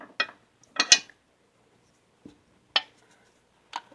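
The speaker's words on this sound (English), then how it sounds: "So we got to remove our snap ring first." Metal clicks and snaps from pulling a snap ring off the center support of a TH350 automatic transmission during a rebuild, heard as a few sharp, close, separate clacks with quiet gaps between them.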